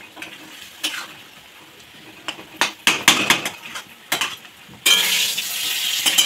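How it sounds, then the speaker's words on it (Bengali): Turmeric, salt, sugar and Kashmiri chilli powder frying in oil in a pan for a green banana kofta curry, with sharp clinks of a spatula against the pan, then a steady, loud sizzle taking over near the end. "এই যে আমার মশলা ভাজা ভাজা হয়ে এসেছে, তেলও ছেড়ে দিয়েছে"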